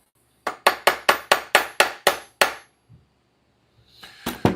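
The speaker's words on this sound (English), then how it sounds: "When in doubt, hammer it out." Hammer tapping on parts of a Losi 5ive-B RC car: about nine sharp, evenly spaced metallic taps in a quick steady rhythm, close and loud, then a pause and two more taps at the end.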